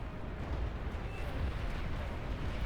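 A commander unit explodes in the real-time strategy game Beyond All Reason, a dense, low, rumbling blast that stays at a steady roar throughout.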